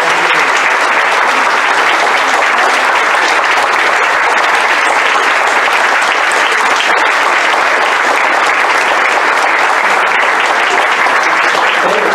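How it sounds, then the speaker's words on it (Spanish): Loud, sustained audience applause at a book presentation, a dense wall of clapping that carries evenly through the whole clip with no talk over it. "pido un aplauso para mi nana Balbina, que fue mi nana desde que yo nací."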